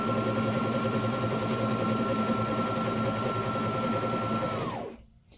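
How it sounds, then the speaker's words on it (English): A sewing machine runs in one steady, fast, even whir as it sews elastic around the leg hole of a wool diaper cover, close and moderately quiet, then winds down and stops near the end. "So I'm sewing the elastic around the second leg hole."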